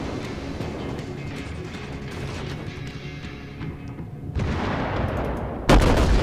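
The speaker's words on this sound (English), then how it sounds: "they start shooting me" Naval gunfire in the World of Warships game from a US cruiser or battleship: dense rumbling salvos and impacts run throughout, building to heavier blasts and a sharp, loud crack near the end.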